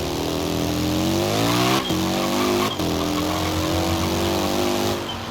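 A Hayabusa-swapped car engine in Forza Horizon 3 revs hard with a thin, buzzy, moped-like whine, pitch climbing and dropping with quick shifts, loud and continuous with no talk.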